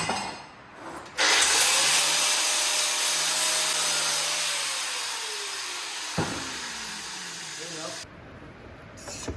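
Abrasive cleaning of the mating faces on a handmade exhaust manifold for a little Austin, a steady loud hissing, grinding rush lasting about seven seconds, with a faint falling whine as it spins down and quiet pauses at either end.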